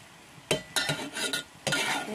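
Egg frying in a pan for Maggi noodles, heard as a few separate bursts of sizzling and clattering utensil stirring at close range, each lasting a fraction of a second, with no talking.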